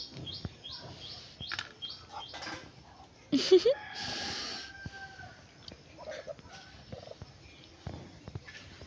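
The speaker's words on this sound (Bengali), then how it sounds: "এগুলো হচ্ছে আমাদের বাড়ির চীনা হাঁস" Chinese ducks kept at a rural home call out in a run of short, harsh quacks and clucks near the microphone, with bird chirps and household sounds in the background.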